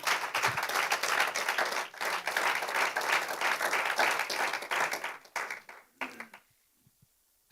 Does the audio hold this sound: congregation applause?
yes